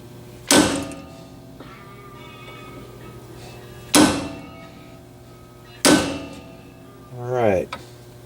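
Hammer striking a car tie rod end during a suspension repair, three sharp metallic whacks a few seconds apart ringing briefly each time, with a short voiced sound near the end.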